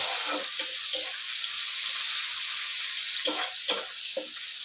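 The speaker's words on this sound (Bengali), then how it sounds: "পেঁয়াজ কুচিটা দিয়ে দিলাম, পেঁয়াজটা লাল লাল করে ভেজে নেব।" Chopped onions fry in a wok with a strong, steady close sizzle, broken by a few stirring scrapes and no talking.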